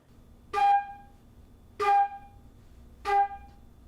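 Flute playing three short separate notes, evenly spaced and detached, each a clean tone with a breathy attack, close with quiet gaps between.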